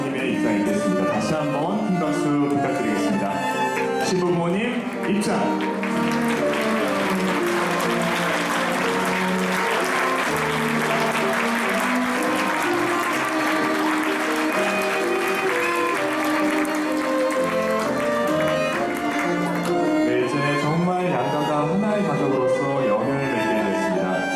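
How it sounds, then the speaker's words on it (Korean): An audience at a wedding in a Gangnam Novotel hall claps loudly and steadily, with cheers rising in the middle, while a voice speaks over the applause. "우리 네분께 뜨거운 박수 부탁드리겠습니다"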